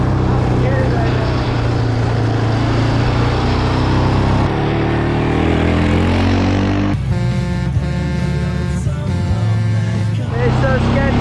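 Honda 700XX or Yamaha Raptor 700R ATV engine roaring steadily while doing donuts and powerslides in the rain, loud and close, with a clear shift in engine tone partway through.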